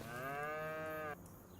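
An Angus cow in the Farming Simulator 25 video game gives a single long, loud moo with a steady drawn-out tone lasting about a second, then cuts off abruptly into quiet background hum.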